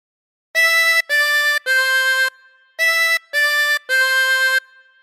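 A 24-hole tremolo harmonica plays the opening phrase of Three Blind Mice: two matching groups of three wavering, reedy notes separated by a short pause, close and clear with no voices.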